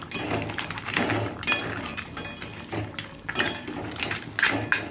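A spoon stirs crab masala with coriander leaves and green chillies in a pan, giving irregular metallic clinks and scrapes in uneven bursts, close and moderately loud.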